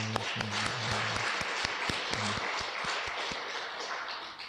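A church congregation claps in praise during a Sunday service, with steady crowd applause, a few sharper individual claps, and a low held organ-like tone in the background.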